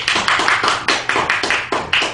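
Steady applause from a church praise concert audience, dense rhythmic clapping with regular swelling bursts, fairly loud and close, no voices.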